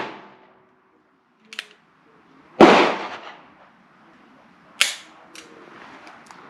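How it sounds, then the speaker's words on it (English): A Ruger Blackhawk single-action revolver with a 7.5-inch barrel fires wadcutter loads: two sharp, loud outdoor gunshots about two seconds apart, each followed by a short decay, with a few small clicks and taps between them. "I shot them out of the Ruger Blackhawk"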